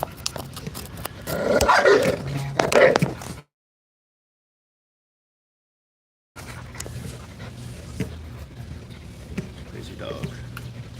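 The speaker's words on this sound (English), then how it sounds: "Crazy dog." Bubba, a wolf-like dog, barks, growls and pants loudly up close outdoors with other dogs, in rough bursts for a few seconds, then after a silent gap quieter scuffling and panting continue.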